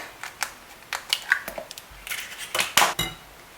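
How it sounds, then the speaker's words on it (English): An egg is cracked into a bowl in a home kitchen, with a series of close, light clinks and taps of shell against the rim followed by brief crackling. "The 5th and last egg."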